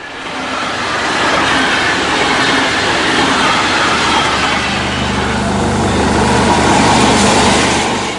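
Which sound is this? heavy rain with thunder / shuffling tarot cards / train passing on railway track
train passing on railway track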